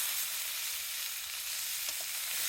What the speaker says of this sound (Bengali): এখন পেঁয়াজ রসুন কাঁচামরিচগুলো দিয়ে দেওয়া হচ্ছে দিয়ে ভালোভাবে ভেজে নেবে